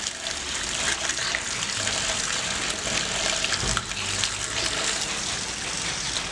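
Dirty water from a Yashina washing machine draining out through the outlet pipe in a steady, continuous gush, close and even throughout.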